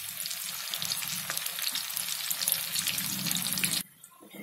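Onion rings dipped in batter crackle and sizzle loudly in hot oil, a dense, steady frying hiss close by that cuts off abruptly near the end.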